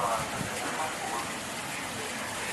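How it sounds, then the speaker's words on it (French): Steady rain falls outside a balcony, a dense, even hiss of drops spread across the whole stretch, fairly soft and continuous with no voices over it. "Écoutez cette pluie, les anges font tomber la pluie."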